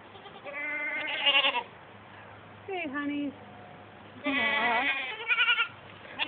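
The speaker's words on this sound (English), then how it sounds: "Lots of goats." Several goats bleat in a farm pen, wavering calls bunched in two loud bursts with a short call between, close by, while a person speaks quietly over them.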